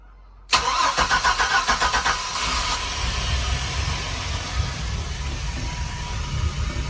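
The port engine of a Sea Ray 280 Sundancer boat cranks with a rapid stuttering whine, then catches and settles into a steady, loud running roar close by.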